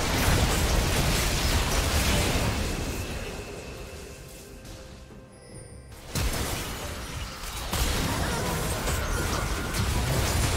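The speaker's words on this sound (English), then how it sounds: "Red team's turret has been destroyed." A turret in League of Legends is destroyed amid dense crackling, bursting combat noise, with a short lull before another loud burst of destruction and a rumbling finish.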